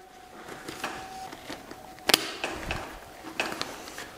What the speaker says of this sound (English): I'm gonna carabiner the actual helmet strap back here